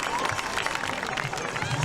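Crowd applause rings out at the Marché-Concours national horse show in Saignelégier as a horse and rider pass by, a steady dense clapping sustained throughout with a murmur of voices underneath.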